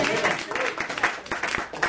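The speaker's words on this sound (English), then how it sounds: "Let's clap your hands." A small audience at a business presentation claps hands in a short, choppy burst, the claps close and lively with a little crowd noise mixed in.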